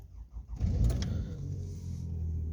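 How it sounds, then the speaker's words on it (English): A 2011 Toyota RAV4 with a throttle actuator fault starting up: a short cranking whir, then the engine catches with a low rumble and settles into a steady idle, recorded close by. "So when we start the car,"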